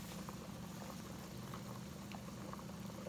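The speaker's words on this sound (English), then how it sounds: "I'm gonna make this boil at least for 5 minutes." Gungo peas and rice boiling in a pot for a Jamaican dish, a steady low rumbling bubble that holds evenly throughout with no talk.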